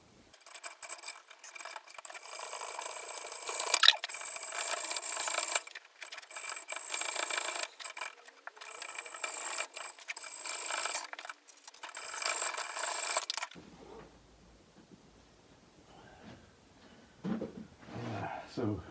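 Screws on a hobby locomotive build being cut off and their ends cleaned up, heard as a long run of harsh, gritty rasping and grinding strokes at close range that cut off abruptly, leaving quieter handling noises and faint movement.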